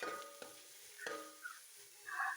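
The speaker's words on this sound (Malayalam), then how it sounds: "ഇത്രയും സാധനങ്ങൾ ചേർത്തിട്ട് വഴറ്റിയെടുക്കണം" Green chili, curry leaves, crushed garlic and ginger sautéing in a pan, a quiet sizzle with a few stirring scrapes and clinks, close and without talk.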